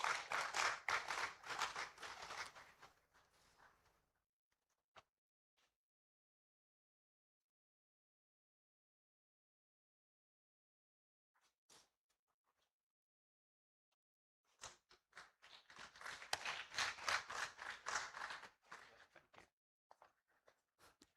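Applause from an academic conference audience fades out after a few seconds, followed by a long stretch of silence with scattered faint taps, then a second burst of clapping swells and fades again.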